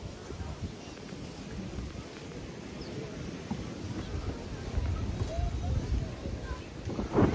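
Wind gusts across the sea on a breezy day, a steady broadband rumble buffeting the microphone throughout, swelling stronger toward the end with faint water and boat sounds beneath.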